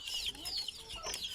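A wild red junglefowl (labuyo) hen gives a few quick, faint clucks outdoors, heard alone without talk.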